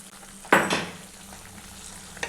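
Papaya halwa with ghee-roasted cashews being stirred in a pan: a sudden scraping, sizzling stir near the half-second mark fades into a low simmering hiss, with a second brief scrape at the end.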